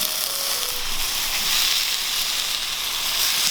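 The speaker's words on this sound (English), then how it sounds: "we're just going to let these sort of sizzle away with the lamb fat" Precooked potatoes sizzle in lamb fat beside a fire pit under a hung leg of lamb, a steady close hiss and crackle that fills the whole stretch without any talk.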